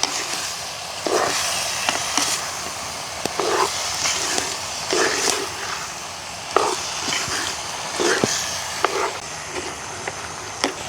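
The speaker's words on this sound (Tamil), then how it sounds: "பச்சை மிளகாய் எல்லாத்தையும் போட்டுக்கொள்வோம் இப்படியே நல்ல வடிவாக பிரட்டி விடுவோம்" Tomatoes, garlic and green chillies stir-fried in a pan for an egg dish, with a steady sizzle broken by repeated scraping strokes of a spatula at a close, moderate level.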